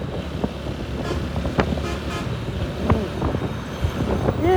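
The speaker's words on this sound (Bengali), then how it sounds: "ওই জন্য আবার ওভারটেক করবে আরো একটা ট্র্যাক" Trucks and cars pass close on a busy road at Khulna's Rupsha Bridge as a truck overtakes, a steady wind-buffeted traffic roar with a horn toot and engine surges rising toward the end.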